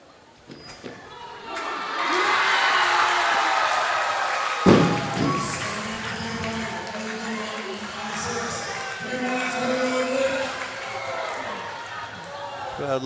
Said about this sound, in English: Crowd liking it.